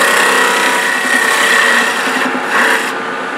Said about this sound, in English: But this detail carbide that Ron sells, you can get in there and just kind of slowly work around it